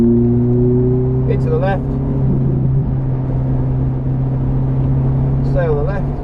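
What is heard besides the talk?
Ferrari F430 accelerating on wet Silverstone track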